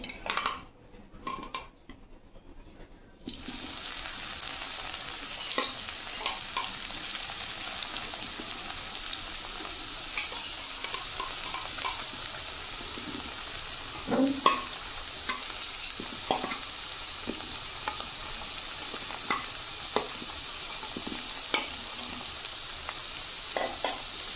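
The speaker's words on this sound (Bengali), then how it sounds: "তেল গরম হয়ে গেছে। কচুতে সব উপকরণ মাখিয়েছিলাম সেটা দিয়ে দেবো।" Spice-coated taro pieces fry in hot oil with a steady bright sizzle, broken by occasional stirring clinks of a utensil against the pan, close and moderately loud.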